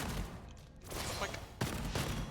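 Grenades explode in the shooter game Gunfire Reborn, a rapid series of heavy booming blasts that land one after another and fill the foreground.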